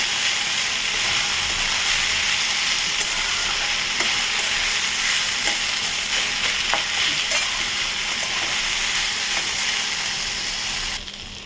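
One chopped onion fries in a pan for a potato-and-onion fry, a loud, continuous close sizzle broken by scraping, clicking stirs, dropping off slightly at the very end.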